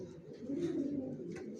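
Young Johnson-line racing pigeons in a loft give a brief, soft, low cooing murmur, faint and close, with light chirps over it.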